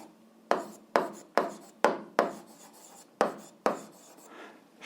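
Chalk or pen strokes writing out a math formula on a board, seven crisp scratchy strokes in an uneven rhythm with short pauses between them, close and clear with no voice.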